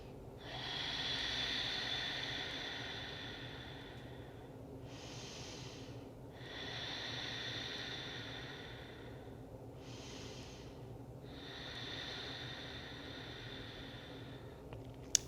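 Slow, deep breaths during a yoga stretch, three long airy exhales spaced by quiet pauses, close and soft against a faint steady background.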